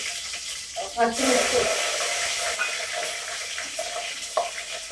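Cumin seeds, garlic and green chillies hit hot oil for a tamarind rice (pulihora) tempering, setting off a sudden steady hissing sizzle that carries on at an even level.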